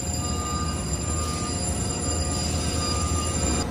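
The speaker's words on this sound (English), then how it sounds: "I think a train's coming in here because I can hear it." Steady rumbling of a train running on the rails, a continuous roar with a faint high squeal from the wheels, no voices.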